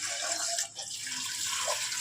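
Cold water runs steadily over cooked sago being strained, a soft continuous tap-like splashing with a short dip midway.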